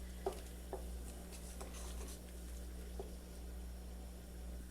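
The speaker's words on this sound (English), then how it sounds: "I am just coming here to give it a stir occasionally." A mustard and onion mixture boils in a pot while a spoon stirs it occasionally, with faint irregular clinks and soft bubbling over a low steady hum.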